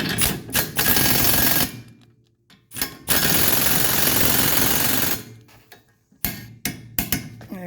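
Bolts being run down on the ball joints of a 1985 Mercedes 300CD with a power tool: several loud bursts of rapid rattling impact hammering, separated by short pauses, close up with no talk.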